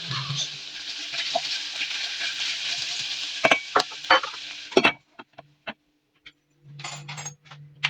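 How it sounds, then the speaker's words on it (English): Onions caramelize in a frying pan with a bright, steady sizzle. Sharp clinks and stirring knocks break in near the middle, then the sizzle drops away and returns briefly at the end. "we are basically going to wait for our onions to be caramelized"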